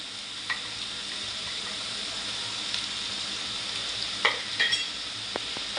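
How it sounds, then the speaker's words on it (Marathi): Sliced onion stir-fried in a pan until reddish for dhaba-style egg bhurji, giving a steady, even sizzle with a few soft scrapes of a spatula against the pan, heard alone and close. "आता आपण लालसर होईपर्यंत परतवायचं आपल्याला लालसर होईपर्यंत आपल्याला व्यवस्थित परतून घ्यायचं कांदा"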